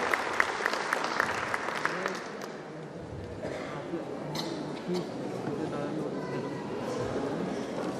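An audience at a devotional music tribute gathering claps loudly and continuously, a dense crackle of many hands that eases slightly midway, with voices mixed in underneath.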